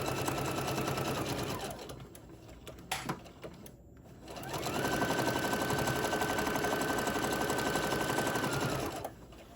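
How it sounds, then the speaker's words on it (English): A sewing machine stitches a quarter inch seam around a small fabric tote bag, running fast and loud in two long bursts split by a brief pause with a few handling clicks. "I'm just going to sew like a 1/4 inch seam all the way around."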